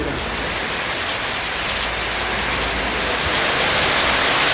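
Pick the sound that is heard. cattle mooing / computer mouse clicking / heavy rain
heavy rain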